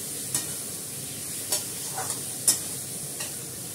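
Onion, garlic, ginger and bay leaf fry over potatoes in a pan, a continuous close sizzle punctuated by four or five crisp spatula taps and scrapes.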